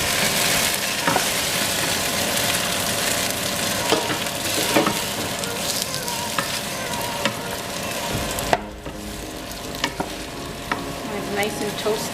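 Chicken fries in a pan for a Cambodian braised chicken and eggs dish, giving a steady loud sizzle throughout with scattered crackles and pops, easing slightly near the end.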